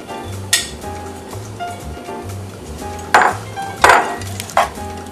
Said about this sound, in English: Just going to coat the noodles.